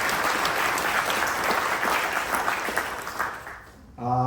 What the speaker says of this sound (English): I'd like to also give a round of applause to our two great speakers